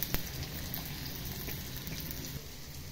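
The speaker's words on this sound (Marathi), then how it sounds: "आपण तेलामध्ये कांदा टाकलेला आहे आणि तो मस्तपैकी फ्राय करून घेणार आहोत." Onion sizzling and frying in hot oil in a pan, a steady close crackling hiss running throughout with no talk.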